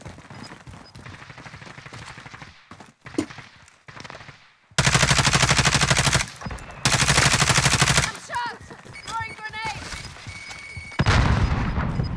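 Gunfire in the Warzone battle royale game: sustained loud automatic rifle bursts in several long stretches, broken by pauses and scattered single shots, with a few spoken voices mixed in.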